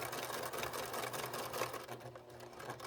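A sewing machine with a built-in walking foot stitches through thick quilt layers beside the binding, a steady close mechanical whirring patter that runs continuously and eases slightly near the end.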